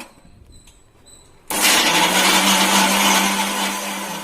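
A kitchen mixer grinder blending tomato chutney in its jar kicks on abruptly after a quiet moment, then roars in a loud, steady whir that keeps running to the end.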